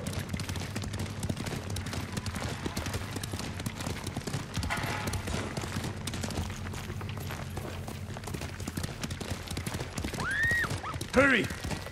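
Horse hooves galloping in the video game Ghost of Tsushima, a fast steady clip-clop close by under in-game voices, ending with a horse's whinny.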